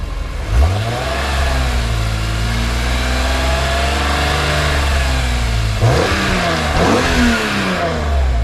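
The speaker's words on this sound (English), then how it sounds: "I'll just give you another rev." A BMW E46 convertible engine with a CSL SMG tune revs up hard from idle, holds a loud steady drone, then blips twice more near the end, close and throaty.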